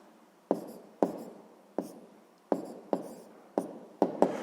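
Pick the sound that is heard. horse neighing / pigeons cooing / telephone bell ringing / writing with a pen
writing with a pen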